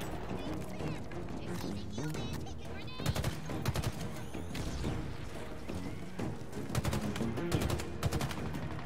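Sniper fire and other gunshots in Halo Infinite, heard as a steady stream of sharp, loud reports and bursts over game music and effects, with no voices.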